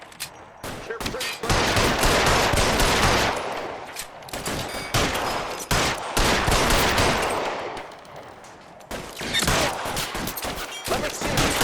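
A gunfight in the video game L.A. Noire, with dense bursts of rapid gunfire and machine-gun volleys in loud, repeated clusters separated by short gaps.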